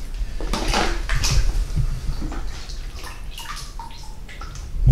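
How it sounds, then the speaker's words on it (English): Water splashing and pouring in uneven bursts while a child washes a hybrid car, with scattered drips and sloshes close by and no talking. "Oh, don't pour it inside the car, Goofy."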